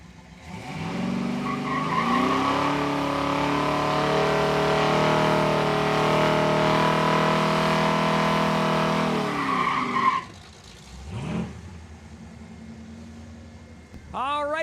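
A drag racing car does a sustained tire-skidding burnout at a points race at Saskatchewan International Raceway, a loud continuous screech and engine roar for about ten seconds that cuts off abruptly, followed by brief revving.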